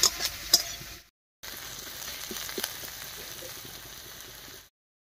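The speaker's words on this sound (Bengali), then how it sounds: "এই মাছ ভাজার তেলেই ফোড়নটা দিলাম।" Spices for a tempering hit leftover fish-frying oil in a pan and set up a steady, close crackling sizzle. It starts with a few sharp pops, then cuts out twice to brief silence.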